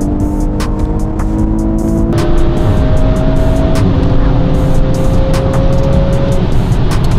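A BMW X3 M40i crossover races sporty Audi S3 and S4 cars, giving a loud, steady roar of engines under hard acceleration with rising tones as the gears shift, heard close with no talking.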